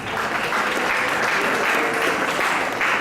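A conference hall audience applauds in a dense, steady wash of clapping at close range that lasts throughout without any voices.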